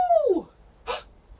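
A voice imitates a wolf howl at a kids' yoga class: one short sliding 'ow' that falls in pitch, followed by a brief breathy sound, close and clear.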